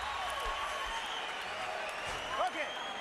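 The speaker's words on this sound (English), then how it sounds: "Much of the crowd rising now, standing ovation" Boxing arena crowd on its feet in a standing ovation for Sugar Shane Mosley before the final round against Canelo, a sustained roar and applause filling the hall with a swell near the end, with an announcer talking over it.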